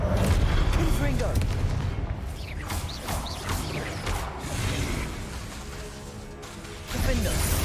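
A Confringo fire spell blast in Hogwarts Legacy combat lands as a loud booming crash amid dense battle noise, with a voice speaking over the continuous rumbling clamor.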